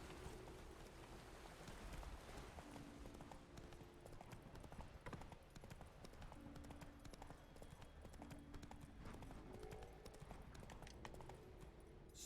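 Roach, a horse in The Witcher video game, trots with steady clip-clop hoofbeats, a continuous rhythmic clatter that is faint and level throughout with soft ambient noise behind it.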